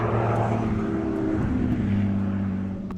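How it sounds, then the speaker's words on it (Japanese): A loud, unfinished race car and other cheap kei cars revving hard as they drive past nearby, with a steady droning engine roar through the whole stretch, fading slightly at the end. "すごいものすごい音出してる車がブンブン走ってて"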